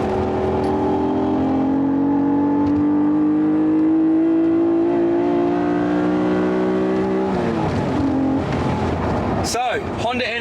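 A 1990 Honda NSX engine climbs steadily in one long rising pull while driving, then eases off and settles lower, heard from inside the car with some cabin noise and a clatter near the end.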